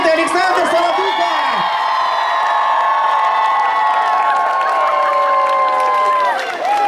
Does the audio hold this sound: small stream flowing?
no